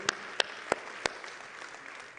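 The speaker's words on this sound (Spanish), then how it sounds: "dale un fuerte aplauso al Señor, dáselo, Él se lo merece" A church congregation applauds the Lord during a sermon, heard as four sharp distinct claps standing out over a soft, distant wash of background clapping.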